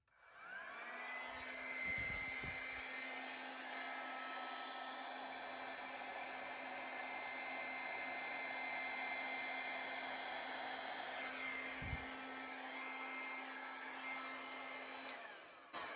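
A steady, close rush of blown air, like a hair dryer, passes over a wet acrylic paint pour to pop bubbles, holding a constant hum for most of the stretch with a couple of brief knocks.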